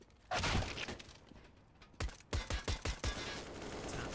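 Pistol gunfire in Counter-Strike during a competitive match: a handful of sharp, close shots in an uneven burst, with a single earlier crack and steady background noise.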